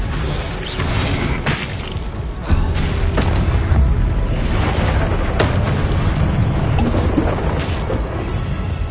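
Repeated Confringo blasting-spell explosions in Hogwarts Legacy, loud booming bursts with whooshing tails stacked in quick succession over continuous game noise.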